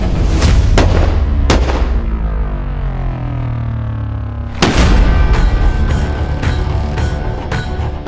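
Arquebuses fire at a medieval festival, with several loud booming shots in quick succession outdoors, a reverberating rumble trailing off, then another burst of sharp reports.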